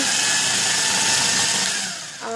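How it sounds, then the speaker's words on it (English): An electric coconut shredder runs while grating a coconut, a loud steady motor whine with a high rasping grind, close and continuous before briefly dipping and rising again near the end. "Okay, so I'm putting the coconut and I am going to shred it. You see, I am putting the button on."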